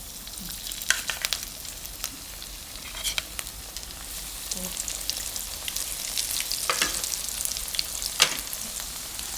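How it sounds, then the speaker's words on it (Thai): Pla som, Thai fermented fish, fries in hot oil with a steady sizzling hiss broken by scattered crackles and pops that grow denser toward the end. "พอน้ำมันร้อนได้ที่เราก็ใส่ ปลาส้มที่เราเตรียมไว้เนี่ยลงไปเลยค่ะ"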